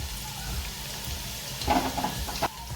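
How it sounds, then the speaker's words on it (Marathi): Spices for a tempering sizzle in hot oil over a high gas flame while vegetable fried rice is prepared, a faint, steady crackle that briefly flares louder near the end. "ही फोडणी आपल्याला गॅसची फ्लेम मोठी ठेवूनच करायची आहे"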